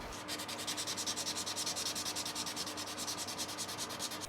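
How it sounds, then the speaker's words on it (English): Wood being sanded by hand to remove router marks from a recess, a fast, even back-and-forth rubbing rasp of roughly eight strokes per second, close and continuous with no talk. "it takes a fair bit of sanding to remove those router marks"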